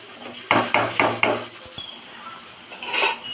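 Several rhythmic scraping clatters of a utensil stirring in a pan, followed by quieter clinks and a soft sizzle.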